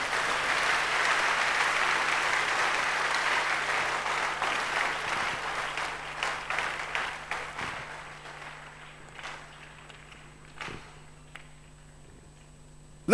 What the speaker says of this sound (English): Can we give a better clap offering somebody?